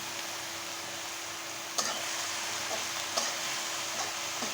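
Banana blossom cooking with turmeric, salt and bay leaves in a covered pan, giving a steady soft sizzle with a couple of faint lid or utensil clicks, no talking.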